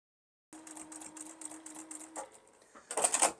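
Sewing machine stitching a quilt block seam through a seam intersection, a quick run of rapid rhythmic stitching after a moment of silence, pausing briefly before a louder burst at the end, close and fairly quiet.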